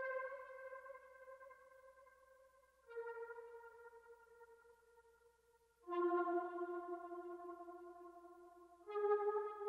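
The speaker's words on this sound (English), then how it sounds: "Next thing I added was this synth accent that's just throughout" A heavily processed synth accent in a sample-based beat made in FL Studio, four sustained tonal notes of a few seconds each, pure and bell-like with a slight echo, quiet and alone.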